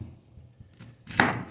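A knife chops onion on a board for sinigang with milkfish and taro, with a few soft taps and then one louder, closer chop near the end, no talk.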